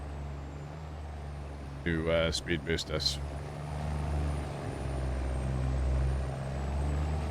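A semi truck idles with a low engine rumble in a farming video game, and a sharp burst of air brake hisses and releases cuts through midway. Someone talks briefly over it.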